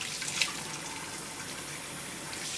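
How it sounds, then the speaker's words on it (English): Tap water runs quietly and steadily into a sink as someone washes their face, a faint continuous splashing hiss with one small splash near the start. "I'm washing my face so well."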